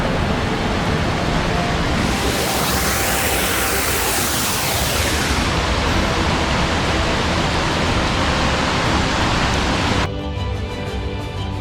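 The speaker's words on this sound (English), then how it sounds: "Far off, the sound of rushing water cuts through the trees, guiding us forward." Steady, loud rushing water roars throughout, a dense broadband wash of a river near Cueva del Esplendor, Jardín, Colombia, with no voices.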